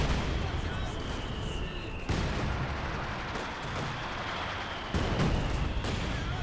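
Gunfire and explosive blasts from a Grenadier squad in the Company of Heroes 2 strategy game, heavy and continuous, with sharper bursts near the two- and five-second marks.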